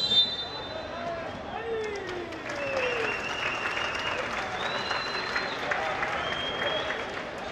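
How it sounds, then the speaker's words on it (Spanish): Steady clapping from a crowd at the ceremony before a futsal national final match in Planadas, Tolima, heard at a moderate distance with whistles and a few voices mixed in. "a quien recibimos un fuerte aplauso"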